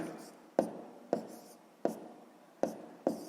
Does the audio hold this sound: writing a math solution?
yes